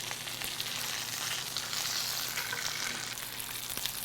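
Salmon frying in a pan, giving off a steady, gentle sizzle that holds at an even, moderate level with no voices.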